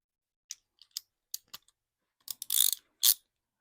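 Ratchet turning a spark plug socket on a 2005 Honda Odyssey EX, with scattered sharp clicks followed by a short burst of rapid ratcheting, close and quiet.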